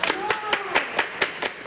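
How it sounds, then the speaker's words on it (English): A group claps hands in unison, eight sharp, evenly spaced claps in a steady rhythm, loud and close, with a faint voice underneath. "Everybody clap your hands."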